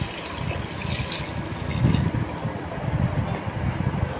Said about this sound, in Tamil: இந்த கோலையில் 1 கோலை தண்ணியை இதில் ஊற்றி